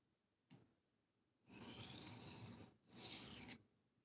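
An S90V steel knife edge is drawn across a sharpening surface to remove the burr, giving two soft, rasping strokes after a tiny tick, close and quiet with silence between them.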